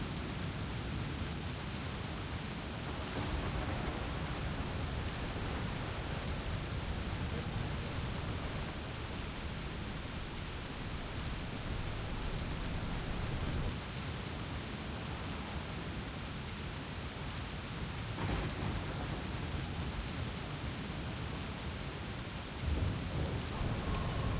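Thunderstorm with heavy rain in the city-building game Cliff Empire, a dense steady roar of downpour with low thunder rumbling beneath it, continuous and moderately loud, with no talk.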